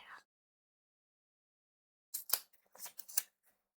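Opening an Arkham Horror LCG card pack: a short cluster of crisp papery tears and rustles, close and fairly quiet, after a brief faint sound and a long silence.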